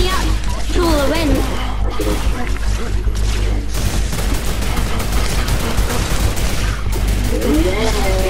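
Rapid, continuous bursts of gunfire from turrets in Fortnite, dense automatic firing with booms and crashes under excited talk throughout.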